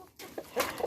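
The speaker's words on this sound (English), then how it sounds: "And a chicken trying to escape." A chicken clucks in a few short, close bursts while trying to escape its enclosure in a backyard garden coop, with brief quiet gaps between the calls.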